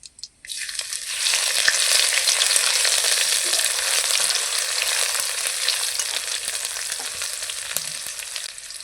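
Bay leaves and garlic paste fry in hot oil with a loud, steady sizzle that starts abruptly and runs on, broken by faint stirring clicks close at hand.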